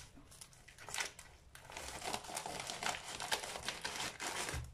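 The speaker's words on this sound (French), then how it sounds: "Alors, on va prendre des ciseaux." Scissors snip through a small vacuum-sealed plastic bag while cooking, giving soft crinkling and short cutting crunches, close and quiet, with no talk.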